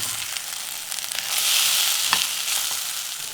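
A chicken tikka mixture fries in hot ghee with a steady, bright sizzle that swells briefly as it is stirred, close and unbroken.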